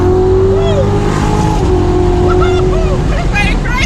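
A Chevrolet Corvette C7 Z06 V8 roars loudly from inside the cabin, engine note rising and falling through revs and shifts while people talk excitedly over it.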